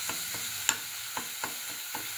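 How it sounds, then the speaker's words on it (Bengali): Lau (bottle gourd) greens with garlic being stirred in a frying pan, a quiet sizzle broken by a series of soft scraping strokes roughly every half second, one sharper clack near the start. "আর একটু নাড়লেই হয়ে যাবে"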